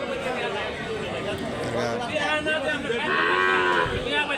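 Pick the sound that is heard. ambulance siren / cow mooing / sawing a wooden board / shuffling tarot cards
cow mooing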